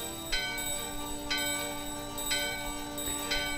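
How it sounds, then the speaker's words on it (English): Four evenly spaced bell strikes ring out about once per second in the video game Final Fantasy IX, each clear, bright chime sustaining over a steady ringing tone, with no voices. "The bell in your hand and the door are ringing."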